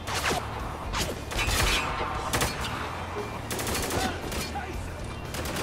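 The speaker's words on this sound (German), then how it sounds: "das MG, das schießt auf mich" Heavy machine-gun fire in the shooter game Spec Ops: The Line comes as loud, dense bursts of rapid shots. Mechanical clatter and impacts fill the gaps, with no break in the noise.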